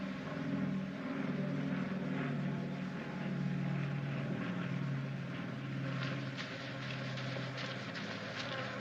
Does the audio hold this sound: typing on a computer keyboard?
no